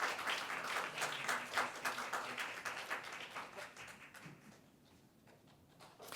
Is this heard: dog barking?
no